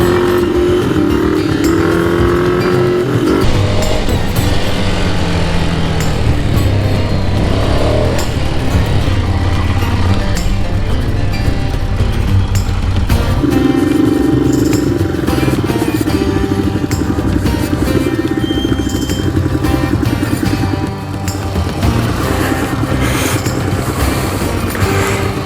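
Ducati Desert Sled with its 803 Desmo engine held at full throttle, a loud, sustained engine roar with wind buffeting that runs unbroken for the whole stretch and shifts pitch slightly as it pulls.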